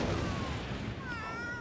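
A dying cat meowing in The Sims 3, a drawn-out wavering cry heard alone at steady volume over a dense game background.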